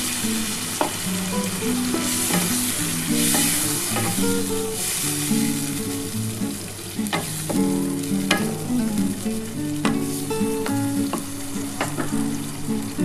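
A little water goes into a sautéed dahi potol curry in a pan, producing a strong, continuous close sizzle with scattered spatula clicks, while melodic background music plays throughout.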